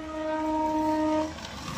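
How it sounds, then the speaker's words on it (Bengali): A train passing nearby sounds a sustained, tonal horn blast for over a second before it cuts off, leaving a soft rumble of the moving train. "এখন গাড়ি এখান দিয়ে ট্রেন যাচ্ছে, দেখতে পাচ্ছ ট্রেন"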